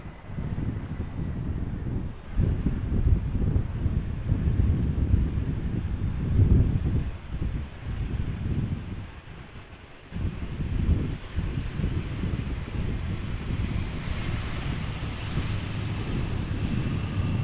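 Strong wind buffets the microphone at Amsterdam Schiphol Airport, a steady low roar with gusts that surge and drop, briefly easing near the middle before building again.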